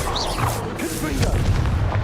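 A Confringo spell explosion in Hogwarts Legacy bursts as a steady booming blast that sustains for about two seconds, with a voice sounding faintly in the background.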